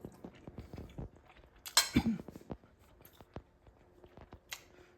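Someone takes a bite of homemade pork fried rice, with quiet, close chewing and a few soft crunches and clicks of cutlery against a dish, no talking.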